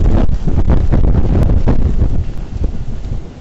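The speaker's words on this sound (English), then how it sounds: "here comes a big wind" A strong typhoon gust roars across the Star Ferry Pier in Hong Kong, buffeting the microphone with loud, heavy low rumbling that eases slightly toward the end.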